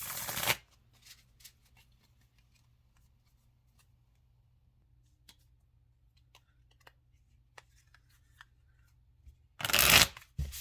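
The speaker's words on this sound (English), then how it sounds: "I felt I needed another shuffle there" A deck of tarot cards being shuffled, loud riffling bursts at the very start and near the end, with quiet card taps and handling in between.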